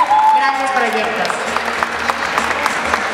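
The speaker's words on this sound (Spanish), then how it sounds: "Y quiero que les demos un gran aplauso a Nicandro" Audience applause at a live stage event, a loud burst of clapping from a crowd that rises at once and holds steady, with a voice over it at the start.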